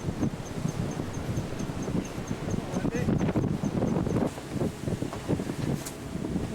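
Steady wind roars and buffets across the whole recording on a boat, with gusty rustling noise and a faint voice underneath.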